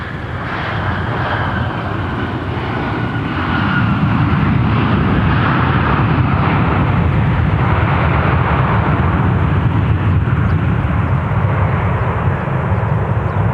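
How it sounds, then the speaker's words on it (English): A Sun Country airliner, Flight 1648 from LAX, roars past at Minneapolis–St. Paul Airport, its broad engine rumble swelling after a few seconds and holding loud and steady. "This is Sun Country Flight 1648 from LAX"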